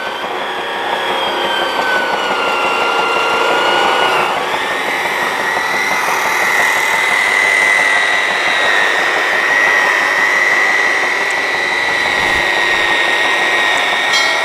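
An electric cutter saw running under load, powered by a homemade free-energy generator, giving a loud, steady, high whining drone that holds unbroken for the whole stretch.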